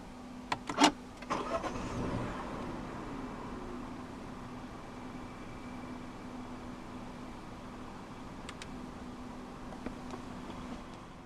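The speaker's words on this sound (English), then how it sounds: "Put your foot on the clutch and press the start button right above the key slot." A 2016 Citroën Grand C4 Picasso with the 1.2 PureTech 130 petrol engine starts by push button: clicks, a brief crank and catch, then a steady, quiet idle with a soft hum.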